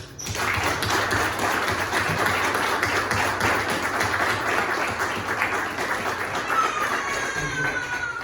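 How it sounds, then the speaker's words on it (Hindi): Church congregation clapping during a Sunday service, a loud, sustained crowd applause with faint tapping and a thin ringing tone creeping in near the end. "आइए यीशु के नाम में तालियां हो जाए"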